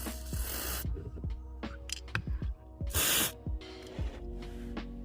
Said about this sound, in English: Just spray it all around that area as much as you can